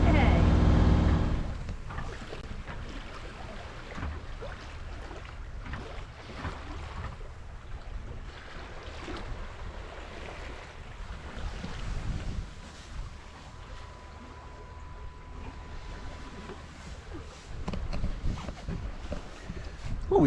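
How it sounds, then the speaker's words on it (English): Sailboat running downwind with only the headsail set on a passage from Stornoway to Tarbert, with steady wind rush and water wash around the hull, gusty microphone buffeting throughout and a louder burst near the start and end. "We're on an easy sail with just the head sail out, running downwind"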